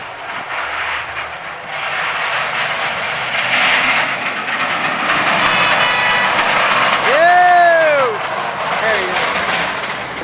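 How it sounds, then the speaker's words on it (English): A snow plow truck driving past during a heavy snowstorm, its rumble swelling as it nears and then fading, with a brief squealing whine near the end. People talk over it. "Here comes little Phil's father, snow plowing."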